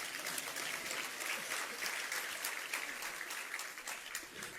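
Audience applause at a spiritual discourse in Jabalpur, a steady dense crowd clapping that stays moderately loud throughout, with no clear slow rhythm.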